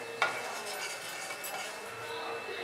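Cumin seeds and a pinch of asafoetida fry in a little oil in a pan with a steady soft sizzle. A sharp clink of a utensil comes near the start, then a quiet crackle continues.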